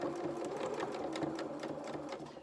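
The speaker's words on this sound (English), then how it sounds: "So I'm going to put my fabric into my machine." Domestic sewing machine reverse stitching through fabric, a continuous close whirring and rapid needle clatter held at an even level for the whole stretch, with no pause.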